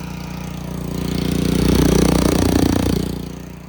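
A Honda small engine mounted on a stand runs at a steady idle, its chugging drone swelling slightly louder in the middle before easing back, close and continuous.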